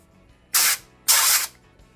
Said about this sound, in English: I'm going to go ahead and spray in some avocado oil.